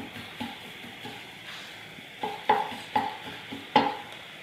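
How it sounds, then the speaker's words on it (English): Sausage, leeks and cauliflower stirred in a hot pan, with a steady background sizzle and several sharp utensil scrapes and clinks against the pan near the end. "Keep stirring and chopping."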